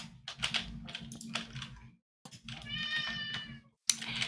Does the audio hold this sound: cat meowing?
yes